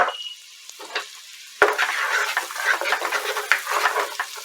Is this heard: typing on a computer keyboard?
no